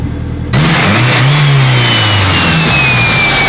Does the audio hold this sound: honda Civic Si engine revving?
yes